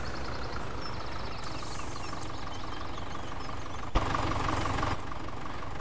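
A small Massey Ferguson tractor idles in the Farming Simulator 17 game, a steady, even engine drone with a brief click partway through and no talk.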